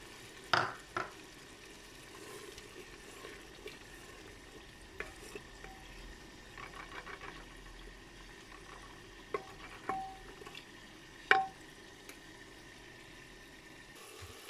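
Spices frying in oil in a pan for homemade Indian food, with a faint, continuous low sizzle and occasional soft scrapes and knocks of a spoon stirring, quiet and close, without talk.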